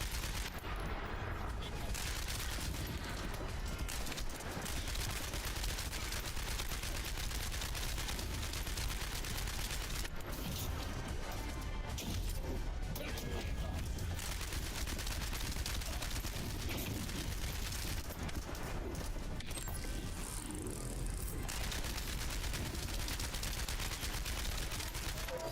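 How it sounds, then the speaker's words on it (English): Dense gunfire and explosions from a Marvel video game, sniper fire and blasts in sustained rapid bursts filling the whole stretch. "God damn, the sniping in this game is brutal too. The fact that they explode the way they do."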